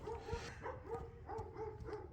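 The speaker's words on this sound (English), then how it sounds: "The dogs are barking at the donkeys." Dogs bark repeatedly at donkeys outdoors, a series of faint, fairly distant yips and barks in an uneven rhythm, heard alone without talk.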